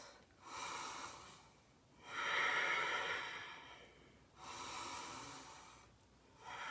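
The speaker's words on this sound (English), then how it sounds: "Let's just take a couple big breaths." Several slow, deep breaths during an all-levels vinyasa yoga class, each long inhale and exhale audible and fairly soft, with short pauses between them and no talk.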